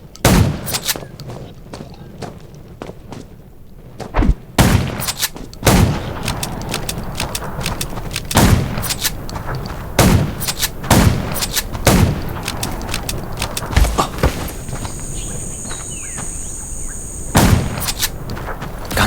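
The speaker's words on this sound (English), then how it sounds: "Gunshots at a junkyard." Gunfire in a zombie survival video game set in a junkyard: sharp, loud single shots at irregular intervals over a busy, noisy background, with a faint ringing tone late on.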